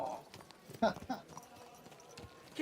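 Hoofbeats of a horse in Kingdom Come: Deliverance II, a few soft clip-clops under shouted in-game voices, fairly quiet and brief.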